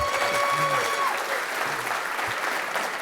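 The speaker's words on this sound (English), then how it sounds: "if you could applaud if you can see why I admire Dr. Spear so much?" Dense, steady audience applause fills a conference hall after a keynote talk at the DevOps Enterprise Summit 2015, with loud, continuous clapping from a large crowd for about three seconds and no speech over it.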